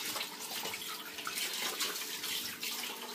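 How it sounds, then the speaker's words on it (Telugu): A whole chicken being washed under running water, the faucet stream splashing steadily and fairly quietly with small irregular spatters, no talk. "దీన్ని ఫస్ట్ వాటర్తో బాగా క్లీన్ చేసుకుందాము"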